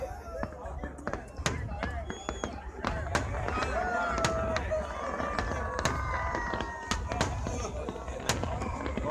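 Firecrackers and fireworks explode at a New Year celebration near the Burj Al Arab in Dubai, a dense, continuous run of sharp pops and bangs over a steady crowd rumble, with people talking throughout.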